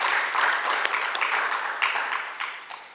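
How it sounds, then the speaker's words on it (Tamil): An audience at a weekly gathering claps steadily for about three seconds, a bright, dense patter of many hands with a few sharper individual claps, tapering slightly toward the end. "அவருக்கு ஒரு கைதட்டு"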